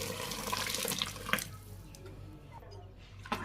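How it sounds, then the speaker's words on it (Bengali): Hot water from an electric kettle jug pours into a rice cooker holding rice, a steady close splashing stream that tapers off with a few drips, under a little talk. "পরিমাণ মতো জল আমি গরম জল করে রাখছি জগে, মানে ইলেকট্রিক হিটারে, সেই জলটাই দিয়ে দিতেছি"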